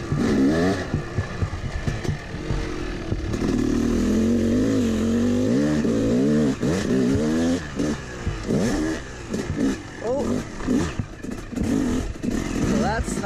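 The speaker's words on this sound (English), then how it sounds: "God, dirt bikes are the sickest thing ever." A Yamaha YZ250 two-stroke dirt bike revs and climbs through its gears on a hard enduro trail, the engine note rising and falling continuously while a rider talks over it.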